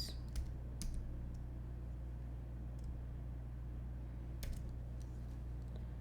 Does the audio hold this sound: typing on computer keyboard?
yes